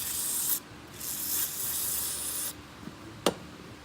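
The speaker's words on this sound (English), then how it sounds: "When you use that brake cleaner, wipe it off your sights real fast" Brake cleaner hisses from an aerosol can onto a well-used Glock pistol during cleaning, a few close, loud bursts of spray with short pauses between them, followed by a couple of faint clicks.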